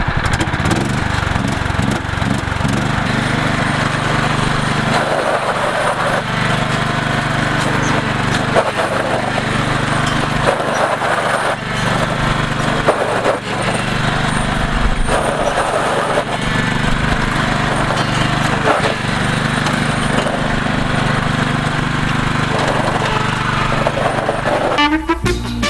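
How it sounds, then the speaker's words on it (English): An MTD lawn tractor's engine runs steadily and loudly near the listener for the whole stretch, a continuous mechanical drone with shifting tones and a few knocks, no talk over it. "This is an actually good tractor."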